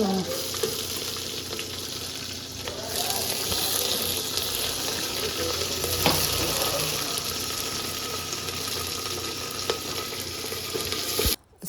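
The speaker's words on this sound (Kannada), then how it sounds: "ಜಸ್ಟ್ ಒಗ್ಗರಣೆಗೆ ಆ ಬೇಳೆಗಳನ್ನ ಹಾಕ್ಬಿಟ್ಟು ಫ್ರೈ ಮಾಡ್ಕೋಬೇಕು" Continuous hiss and crackle of lentils and spices frying in hot oil for tempering, close and steady throughout, with a brief clatter near the end.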